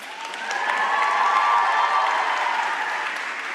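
Graduating students at a university convocation ceremony applaud their families, friends, faculty and staff, a broad even wash of clapping from a large crowd that swells and then holds steady.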